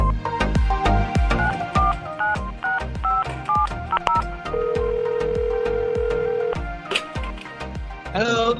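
A sequence of short phone keypad tones dialed over a plucky musical backing, then a long steady tone, ending with a brief ringing sound.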